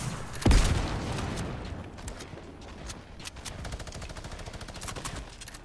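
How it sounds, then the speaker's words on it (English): Gunfire in the video game Fortnite, a sharp loud blast followed by bursts of rapid automatic shots, some distant, continuing through the clip. "I think someone's firing"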